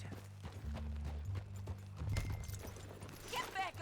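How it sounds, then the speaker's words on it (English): Rhythmic horse hoofbeats clip-clop in Red Dead Redemption 2 under layered game audio with low droning tones and brief voice-like sounds toward the end. "Get back on your horse, John."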